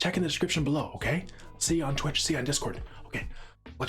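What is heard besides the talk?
No everyday noise stands out behind the speech.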